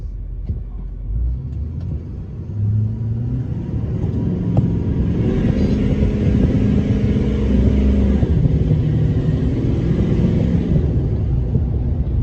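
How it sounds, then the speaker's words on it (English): A Duramax diesel truck pulls away from a standstill at about half throttle, its deep engine rumble building steadily and staying loud and close for the whole stretch, with no talk over it. "Oh man, the noise it makes is amazing"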